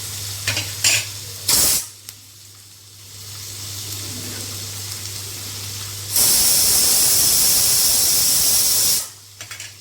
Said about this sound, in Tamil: குக்கர் விசில் வந்துச்சு.